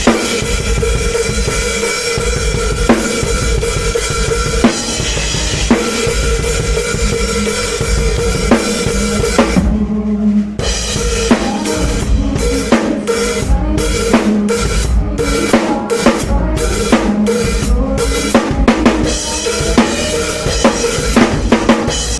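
A cover band plays a song from their live set at full volume, dense and continuous, with a rhythmic, punchy stop-start passage partway through before the full band resumes.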